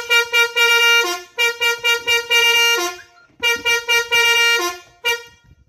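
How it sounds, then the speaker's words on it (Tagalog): A loud, musical multi-tone basuri horn on a motorcycle plays a rapid rhythmic melody in repeated bursts, close and clear, with short pauses between phrases. "tunugin nyo yung basuri horn"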